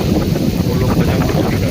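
Heavy rain and gusting wind roar continuously as loud, low buffeting against the microphone, with thunder, while a voice speaks briefly underneath.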